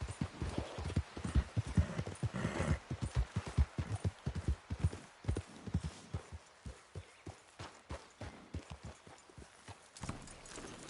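Horse hooves clip-clop steadily on the ground in Red Dead Redemption 2, a close, even rhythm of hoofbeats with a brief whinny-like tone early on, and no talking.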